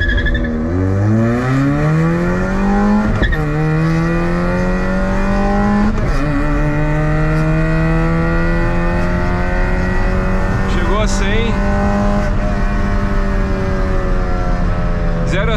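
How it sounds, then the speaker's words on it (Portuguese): A mildly modified VW Saveiro 1.6 MSI pickup accelerates hard from 0 to 100 km/h, its engine loud and close, climbing in pitch through each gear, with three or four distinct shift breaks between rising revs. "Vamos lá, vou subir o giro."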